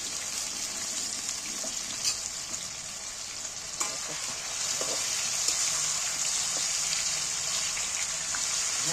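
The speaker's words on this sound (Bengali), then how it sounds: "ভেজে নেব খুব বেশি ভাজবো না" Okra sizzles loudly in hot mustard-type oil seasoned with nigella seeds, a dense continuous hiss with a few soft stirring clicks, close up and without talk.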